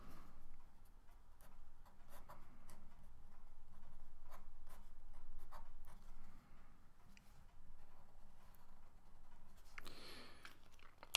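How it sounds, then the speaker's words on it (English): Pen writing the Chinese character for zero on paper, a quiet, close scratching with soft strokes and taps over several seconds, pausing briefly, alone in a hushed room. "So now I'm gonna write"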